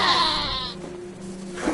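A goat in the video game Wasteland 2 bleats once, loud and close, a quavering cry lasting under a second, followed by faint background tones and a soft thump.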